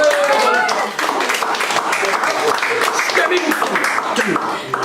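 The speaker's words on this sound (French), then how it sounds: "On peut applaudir Monsieur Peach" A live comedy audience applauds a comedian, steady clapping that carries through the whole stretch, with voices mixed in.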